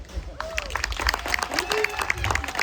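Audience applause for the Beatrice community players, a local theater group, at a Homestead Days spoken word and song event; scattered clapping and crowd noise fill the whole short stretch.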